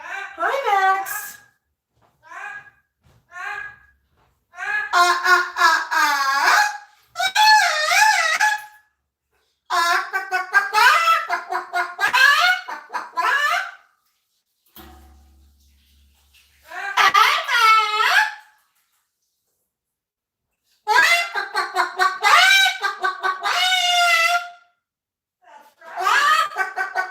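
Cockatoo on its perch making a series of chattery, laugh-like vocal calls and squawks in close, loud bursts separated by brief silences.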